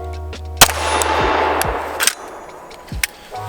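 Several sharp gunshots ring out from a compact firearm fitted with a FLUX Defense stabilizing brace, loud and close, with sharp cracks spaced irregularly and echoes trailing off between them.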